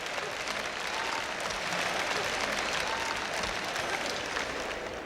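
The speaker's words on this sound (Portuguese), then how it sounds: "Dê uma salva de palmas ao Senhor." A large church congregation claps in a sustained, even roar of applause during a preached service, continuous and full from start to finish with no speech on top.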